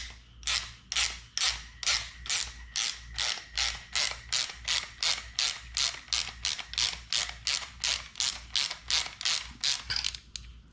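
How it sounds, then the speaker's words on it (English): A 17mm ratchet loosens the fork cap on a Honda CRF150R, giving a long run of steady, evenly spaced ratchet clicks, about two per second, close and loud with no talking. "you're gonna take that 17mm, go ahead, loosen up your cap."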